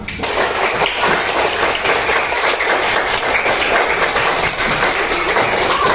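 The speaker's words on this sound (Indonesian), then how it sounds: "tepuk tangan buat kita semua" Classroom applause from students at a teacher's coaching session, a loud, dense, unbroken burst of many hands clapping that holds steady from start to finish.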